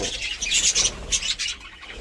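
Pet birds fight inside their cage, a burst of sharp squawks and chirps with fluttering wing flaps, close and busy for about two seconds, with no voices.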